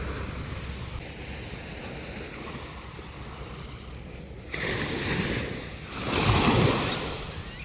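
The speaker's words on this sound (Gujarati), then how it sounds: "દરિયાનો અવાજ કેવો આવે છે" Sea waves wash onto the sand at Madhavpur beach with a steady, near roar and wind rumble, then two louder surges break and rush in toward the end.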